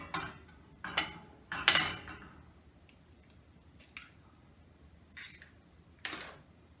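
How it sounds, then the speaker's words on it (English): Eggs cracked for an omelette in a home kitchen: several sharp shell taps and cracks land in uneven bursts, crisp and close, with no talking. "I'm going to crack a couple more eggs"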